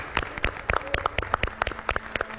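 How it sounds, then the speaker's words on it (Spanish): Audience applause for Félix on a Chilean television show, light scattered hand claps with sharp individual hits. "quiero que todo Chile le dé un aplauso de ánimo a Félix"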